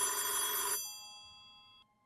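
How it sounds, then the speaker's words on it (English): A telephone bell rings once in the horror video game Azureal's Circle, a bright, loud ring that stops abruptly and leaves a decaying tonal ring-out fading over about a second. "The phone's ringing."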